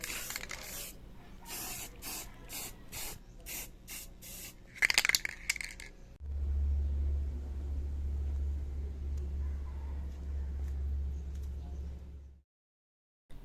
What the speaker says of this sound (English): As soon as the basic colors were laid up, spraying and blending techniques were applied to this piece.